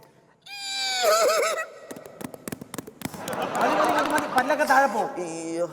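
On a comedy stage, a performer's voice imitates a horse neighing with wavering, rising and falling whinny cries, then a burst of rapid clicking and clattering, and another drawn-out whinny at the end.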